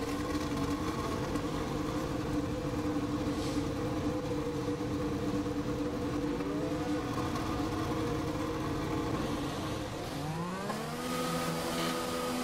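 Racing car engines from the F1 2020 video game drone steadily throughout, with layered engine tones and a rising pitch sweep near the end as a car accelerates out, loud and continuous with no talk.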